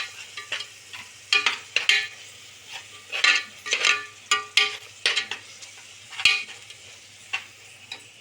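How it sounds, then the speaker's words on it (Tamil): Tomato paste sautéing for mushroom gravy, with uneven bursts of stirring and scraping in the pan over a soft background sizzle, close and moderately loud, with no talking. "அதையும் ஊற்றி பச்சை வாசம் போகிற வரைக்கும் நல்லா வதக்கணும்"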